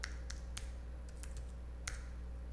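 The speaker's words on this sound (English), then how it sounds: "Again, to change, press P on your keyboard" Keys on a computer keyboard are tapped while a promo code is entered, about six sharp, quiet clicks spaced irregularly over a low steady hum.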